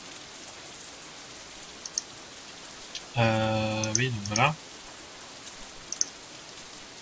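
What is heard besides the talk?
rain falling in visual novel game Katawa Shoujo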